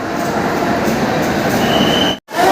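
Steady rumbling of the Tamralipta Express standing at a station before departure, a continuous low roar with a faint high whine, cutting out abruptly near the end.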